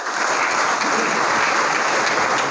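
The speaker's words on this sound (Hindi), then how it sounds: "आपकी भरपूर तालियों में फिदा मोहम्मद खान" An audience claps steadily to welcome a school principal to the stage at a commemorative ceremony, a full, even wash of many hands at moderate loudness with no voices over it.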